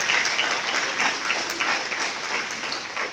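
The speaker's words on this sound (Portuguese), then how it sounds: "Se você crê, dê um aplauso bem forte para você." Sustained applause from a church congregation during a family worship service, a dense, steady wash of clapping that continues without a break, moderately loud with no speech over it.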